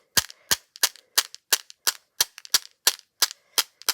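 Sharp, snappy splats of paint flicked from a Posca paint pen onto a journal page, about a dozen crisp pops in an uneven steady rhythm, close and fairly loud with no voices.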